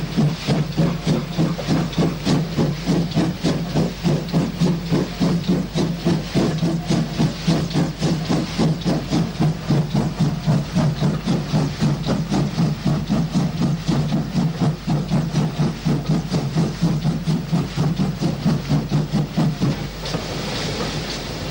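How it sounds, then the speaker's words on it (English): A pannier tank steam locomotive works hard up a 7-mile bank on a single-line section toward Merthyr, its loud, rapid exhaust beats pounding steadily and close over a constant hiss of steam and rolling train noise. "the pannier tank begins the attack on the 7-mile bank"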